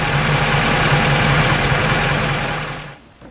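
A Vendôme car engine with a 6-volt electrical system idles at low revs nearby, a steady rumbling drone that fades and stops near the end.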